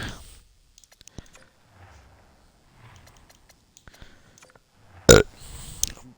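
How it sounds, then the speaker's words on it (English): A single loud burp erupts near the end, close and abrupt, following a stretch of quiet with faint clicks and soft background murmur. "Burp of celebration."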